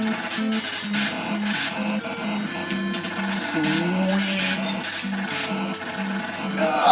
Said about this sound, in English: You can hear me tapping the buttons for that rapid fire